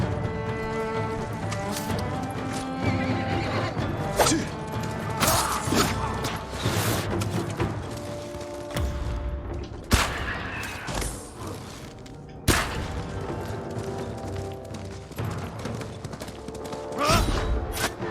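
In the video game Ghost of Tsushima, a horse's hooves clip-clop steadily while a whinny rises now and then, mixed with thuds, crashes and game music, loud and close throughout.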